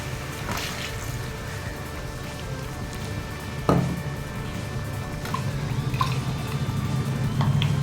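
Water poured over a spiced masala mixture to rinse it into a Chettinad chicken curry, a steady dripping, splashing trickle at close range with brief clinks of a pot, no talk.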